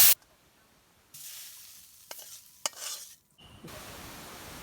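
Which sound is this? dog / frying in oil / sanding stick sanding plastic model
frying in oil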